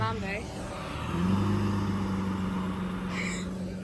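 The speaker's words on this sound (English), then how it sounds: "Oh, Lambo." A Lamborghini supercar at the Salon Privé 2024 show gives a steady low engine rumble nearby while people talk over it.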